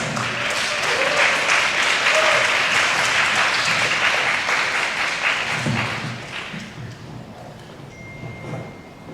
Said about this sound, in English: Let's give the panelists a warm round of applause.